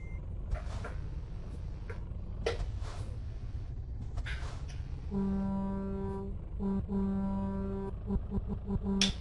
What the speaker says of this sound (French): Habituellement quand on met des coups de klaxon, ça passe mieux.